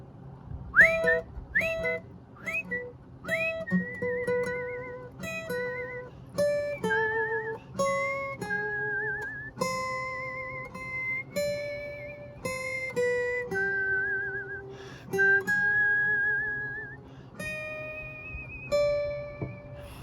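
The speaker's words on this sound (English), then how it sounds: "Doing a unison whistling or singing or something like that." A lone whistler carries a melody as a string of clear, sustained pitched notes that step between tones, moderately loud and close, with no talking.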